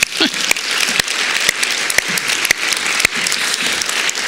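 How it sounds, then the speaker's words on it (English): Arts awards audience giving a round of applause, a loud sustained wash of clapping in a hall with a few sharp nearby claps punctuating it. "I want to give you a big round of applause"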